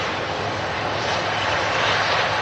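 Jet2 airliner arriving at Manchester Airport from Dalaman, its engines a steady, loud broadband roar filling the whole short stretch.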